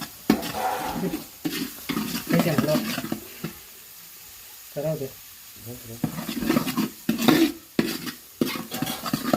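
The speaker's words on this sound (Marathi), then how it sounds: "आता त्यामध्ये सर्व प्रकारचे आता मसाले आपण टाकून घेऊ मसाल्याने चांगल्या प्रकारे तेल सोडू द्यायचं" Spice masala fries in oil for a fish curry, with bursts of stirring and the scrape of a spoon on the pan separated by short quiet pauses, all fairly close.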